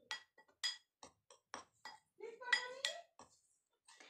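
A spoon beats a batter of dry mix and milk in a bowl for gulab jamun, giving a series of quick, separate clinks and scrapes against the bowl, close and fairly quiet, with a brief voiced sound partway through.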